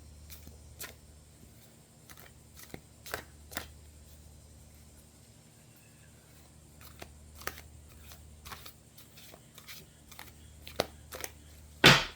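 Soft papery riffling and light flicks of tarot cards being shuffled, a series of short bursts in a quiet room with a sharper crackle at the end.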